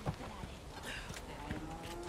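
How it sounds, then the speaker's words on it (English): Cattle lowing among farm animals in the Resident Evil 4 Remake, played in PSVR2: a couple of soft moos at moderate distance over faint game ambience. "Ooh, cows."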